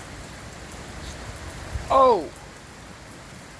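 Heavy rain pours steadily at night during a tornado storm, a dense hiss that runs throughout, with a brief startled shout from a man partway through.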